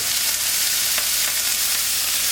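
Wagyu beef brisket deckle pieces sizzle steadily in a hot pan, a loud, close, continuous frying hiss with no one talking.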